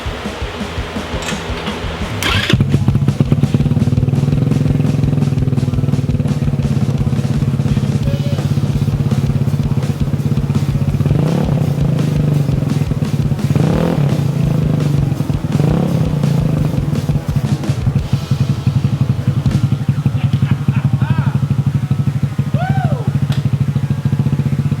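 The truck's carbureted engine, with its choke, is cranked and catches on its first start, then settles into a loud, steady, slightly rough idle with a constant low rumble and clatter.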